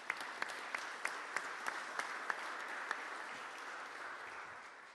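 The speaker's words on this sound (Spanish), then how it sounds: "Un aplauso también para el Senado." A crowd applauds steadily at a book launch, a dense wash of clapping with a few sharper individual claps standing out, gradually easing toward the end.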